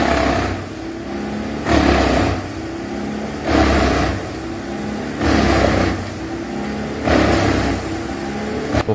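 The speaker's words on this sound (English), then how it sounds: "Before us is the high-capacity wood chipper Bandit 21XP, one of the leading machines in the wood processing industry." A high-capacity Bandit 21XP wood chipper engine runs loud and close, its heavy drone swelling and easing in a regular pulse about every two seconds with no voices.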